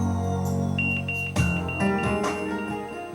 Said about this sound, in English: Volume, and it beeps.